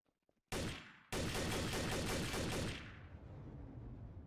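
Gunfire in the video game Trouble in Terrorist Town: a short shot, then a loud, dense, sustained burst of rapid fire lasting a few seconds before trailing off into a rumbling tail.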